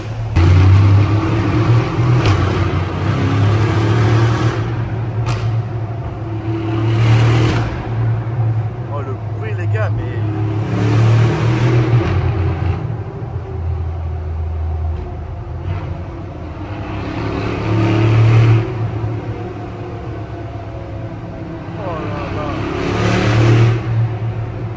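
A Mercedes G-Class 6x6 accelerates, its engine revving in repeated loud surges that swell and fade over a steady rumble, with people talking and exclaiming nearby.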